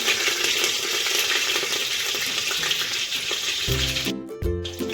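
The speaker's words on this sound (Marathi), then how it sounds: "आता त्याच्यामध्ये चार पाच कडीपत्ते पाणी घालून घेऊया" Curry leaves and cumin seeds hit hot oil with a loud, steady crackling sizzle that carries on for about four seconds, then a short tonal clatter near the end.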